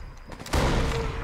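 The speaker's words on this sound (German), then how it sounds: "Du wirst beschossen." Gunfire in the Sniper Elite 4 game on San Celini Island, a dense burst of shots that swells into sustained loud rattling after a brief lead-in.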